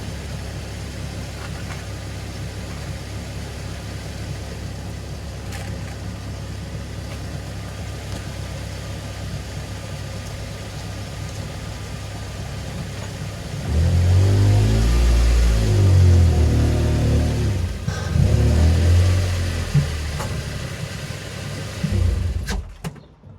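A Ford Mondeo engine idling steadily, then rising to a louder, throbbing rumble with fluctuating revs as the car is manoeuvred and turned around, close by before settling and cutting off.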